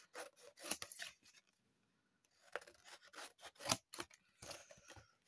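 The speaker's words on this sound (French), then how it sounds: "je vais couper une autre tranche." Scissors snipping through a slice of paper cut from a large printed image for a recycled embellishment craft, with several bursts of crisp cutting strokes separated by a short pause, close and moderately quiet, no talking.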